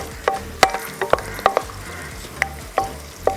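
Garlic cloves sizzling in hot sesame oil for a raisin pickle, with sharp crackles and pops scattered over a steady low hiss, close up and without talk.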